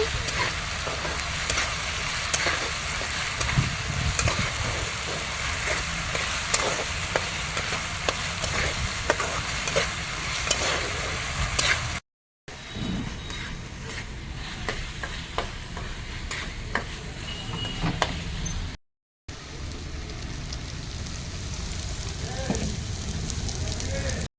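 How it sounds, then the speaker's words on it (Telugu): Masala frying in a pan for a tamarind fish curry, a loud, continuous close-up sizzle with scraping stirs, broken by two brief cuts. Voices can be heard now and then over the frying. "అంతా కొంచెం ఫ్రై అయ్యే వరకు ఫ్రై చేయండి మసాలా మొత్తం బాగా ఫ్రై అవ్వాలి"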